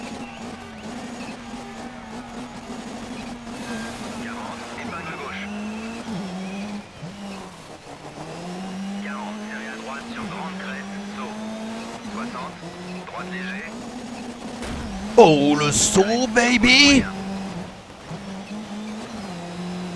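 A rally car engine in the Dirt Rally 3 racing game revs and shifts steadily, with a burst of tyre skidding and a crash-like impact near the end, while someone talks excitedly over it.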